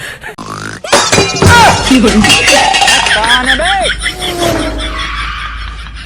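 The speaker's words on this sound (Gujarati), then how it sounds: "કેમ વાસણ પસાડે?" Metal utensils clank and clatter loudly in a quick burst, with people talking and exclaiming over the racket.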